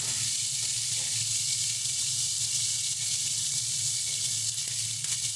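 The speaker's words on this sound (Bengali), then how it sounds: "স্বাদ মতো লবণ দিয়ে মাছগুলোকে ভালো মতন করে ভেজে নিচ্ছি" Prawns seasoned with turmeric and salt frying in hot oil, a steady close sizzle with bright crackling hiss throughout, no voices over it.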